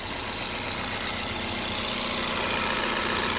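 A Dodge car engine idles steadily and close by, a continuous low rumble that holds even throughout with no revving.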